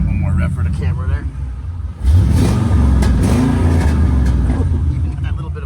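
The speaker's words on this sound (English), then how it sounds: "give it one more rev for the camera there" A Ford Mustang engine is started and revved at an auto auction on a rainy day, a deep rumbling roar that swells after a brief lull and then holds loud and rough, with someone talking over it.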